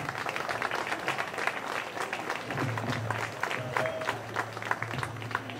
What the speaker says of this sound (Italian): Un applauso quindi ad Alessio Schiavone e Albo Pennacchia.